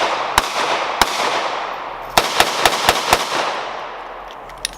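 Revolver shots crack at a shooting match: one sharp report, a second about a second later, then a quick string of five evenly spaced shots, and a last faint pop near the end, loud and echoing over outdoor ambience.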